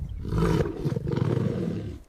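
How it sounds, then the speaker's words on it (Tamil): A lion at Dehiwala Zoo in Colombo, Sri Lanka gives a deep, rumbling roar that carries loud and close for about two seconds with no talking. "ஸோ ரெண்டு பெண் சிங்கமும் ஒரு ஆண் சிங்கமும் இருக்குது"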